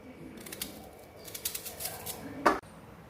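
A knife cutting raw mango into long slices, with a few crisp cuts and scrapes against a board and one sharper, louder cut near the end, set against faint room noise.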